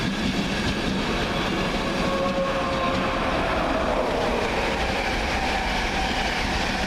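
Locomotive 82200 rumbles steadily past nearby at Doncaster, a continuous heavy roar of wheels on rails with faint metallic squeals.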